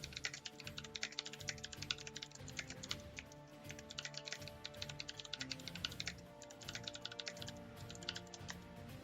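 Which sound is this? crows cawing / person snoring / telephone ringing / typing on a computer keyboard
typing on a computer keyboard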